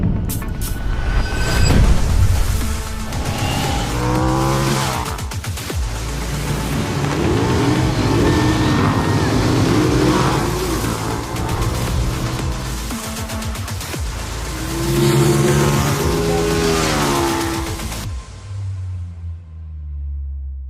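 KTM 990 RC R motorcycles race flat out on a track, engines roaring loudly and continuously with rising and falling revs as bikes pass close by, the sound cutting off near the end.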